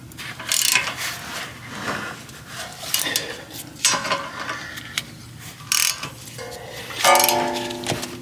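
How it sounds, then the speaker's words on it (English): A ratchet wrench tightens 17 mm bolts on a Mazda CX-9 rear brake caliper, sounding as short bursts of quick clicking strokes with pauses between them, close and fairly quiet. "grab our 17 mil with our wrench, with the ratchet. Go ahead and tighten these up."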